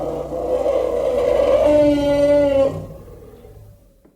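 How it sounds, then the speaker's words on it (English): An elephant gives a loud, brassy trumpeting call that rises and holds for a couple of seconds, then cuts off into fading quiet. "Do you know how the elephant's sound is like?"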